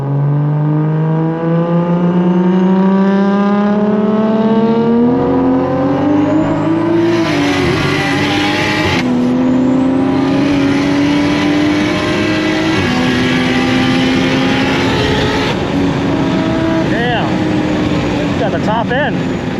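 Two cars race each other: an MK5 Supra and a 600-horsepower Nissan 240. Loud, close engines rev hard through repeated gear changes with rising pitch sweeps and brief breaks between shifts, plus a sputtering burble toward the end.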